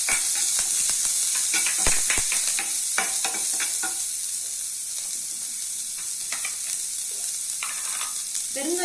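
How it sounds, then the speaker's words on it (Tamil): Onion and curry leaves fry in hot oil in a pan with dried chillies and chana dal, giving a steady, loud sizzle with scattered clicks of stirring throughout. "இப்போ ஆனியன் கருவேப்பிலை சேர்த்துக்கலாம்."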